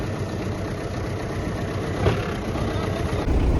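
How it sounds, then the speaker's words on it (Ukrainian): A tractor engine, started in minus 20-degree frost, idles steadily close by, a low continuous rumble with a slight surge near the end. "Завели трактор з першого разу, 20-градусний мороз."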